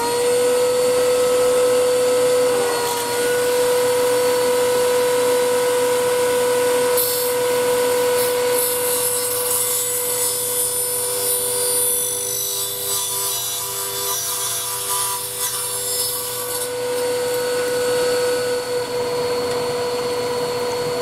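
Wood lathe turning a blank of acrylic with iroko and chestnut, hot-glued to a faceplate while a 3/8 ball gouge cleans the face; a steady motor whine with a continuous scraping, rushing cut throughout.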